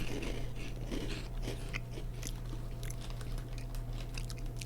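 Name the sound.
crunchy food being bitten and chewed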